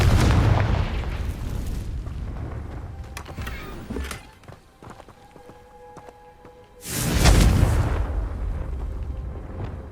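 Confringo blasting spells from Hogwarts Legacy on PS5, heavy booming blasts rumbling loudly, with a sharp explosion near the start and another big burst later, separated by quieter crackling and clicks.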